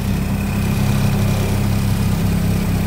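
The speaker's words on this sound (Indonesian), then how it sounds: "Mesinnya 1000 cc 4 silinder, guys" Steady, loud idle of a 1994 Suzuki Katana's 1000 cc four-cylinder F10A engine heard up close, a continuous low rumble with a faint whine and no talking.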